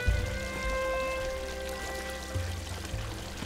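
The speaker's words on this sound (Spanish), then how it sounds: "Me voy a caer al agua." Water pouring and splashing as a character swims in the video game Unravel, a steady watery wash with low thuds and game music tones running throughout.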